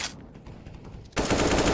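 AK and AWP gunfire in a Counter-Strike esports match, a muffled burst of rapid shots under quiet game noise, then a sudden loud roar of heavy automatic fire that takes over the rest of the moment.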